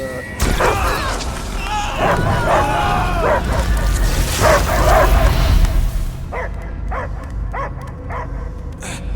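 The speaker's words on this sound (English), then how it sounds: "I hear only barking." A dog barks and yips repeatedly amid video game effects and rumbling in Marvel's Guardians of the Galaxy, then a few sharper barks sound more clearly after the noise drops away.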